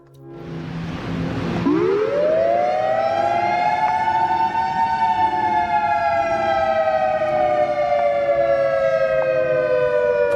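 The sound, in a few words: unusual civil defense siren sounding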